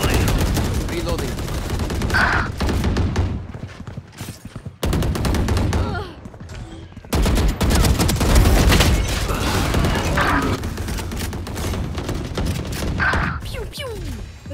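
Valorant gunfire comes in loud, dense bursts of rapid shots, with brief pauses and a sharp cutoff partway through, then the barrage resumes and keeps going almost without a break.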